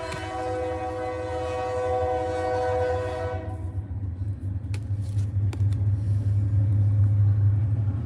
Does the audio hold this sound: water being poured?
no